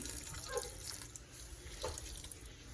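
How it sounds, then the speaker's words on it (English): Water squeezed by hand from salted grated sweet potato trickles and splashes steadily into a bowl or sink, a close, continuous wet running sound with no talking. "And now we squeeze out the sweet potato. Look at all that's coming out."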